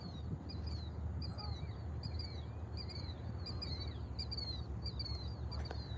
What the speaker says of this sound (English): That's killdeer.